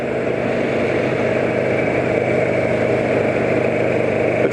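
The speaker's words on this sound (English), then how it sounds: "when I open up the throttle at those certain RPMs, it's making plenty of noise" An engine holds a loud, steady drone at elevated RPM under an opened throttle, close by and uninterrupted throughout, with no talking.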